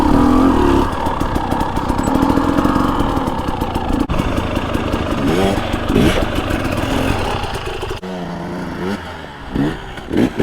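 A 2022 Gas Gas EC 250 dirt bike engine runs loud and close, rising and falling through several throttle blips over a rough idle, with short bursts of revving toward the end.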